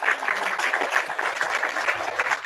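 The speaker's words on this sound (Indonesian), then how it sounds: "Wah, tepuk tangan dulu dong" An audience at a church gathering claps in a steady, dense patter of many hands that continues throughout at moderate loudness, with no voices over it.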